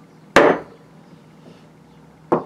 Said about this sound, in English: I'm gonna put the flat side on the outside, and I'm gonna go ahead and score that on both sides.